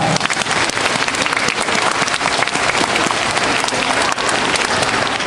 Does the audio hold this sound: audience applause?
yes